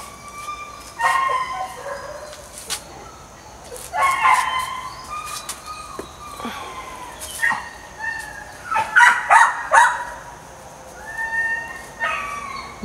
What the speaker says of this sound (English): Nice dog, Edwin.